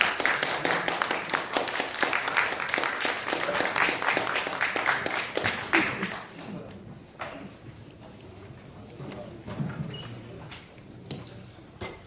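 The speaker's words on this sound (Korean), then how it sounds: "큰 박수로 맞이해 주시기 바랍니다" An audience at a blockchain presentation gives a speaker a welcoming round of applause, dense steady clapping that fades out midway, leaving scattered claps and quiet room noise.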